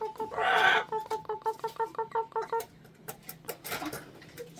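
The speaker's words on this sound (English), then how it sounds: "Sounds like a chicken." Short repeated clucking calls, likely a chicken, come from near a feeding spot in the Karri Valley in Western Australia. They arrive as a rhythmic run of about a dozen quick notes, with a brief voice and rustling around them.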